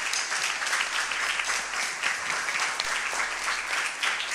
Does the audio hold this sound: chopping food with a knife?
no